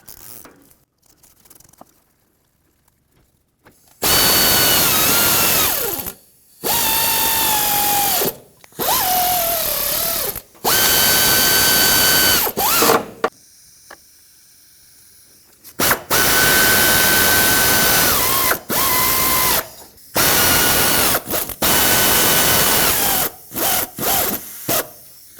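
A power tool runs up the exhaust manifold bolts on a 2004-2009 Ford F-150 5.4L three-valve engine in loud, close bursts of whirring, starting and stopping repeatedly with short pauses between runs.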